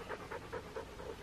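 A dog pants close by, quick rhythmic breaths repeating about five times a second, soft and fairly faint with no talk.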